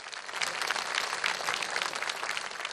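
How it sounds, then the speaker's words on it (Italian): Audience applause for a Sardinian tenore choir from Oniferi after their stage performance at an evening event in Meana Sardo, a steady, dense wash of clapping heard from a moderate distance without pause. "Forte forte forte l'applauso per loro."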